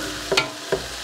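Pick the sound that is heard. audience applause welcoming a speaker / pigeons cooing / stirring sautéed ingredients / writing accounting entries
stirring sautéed ingredients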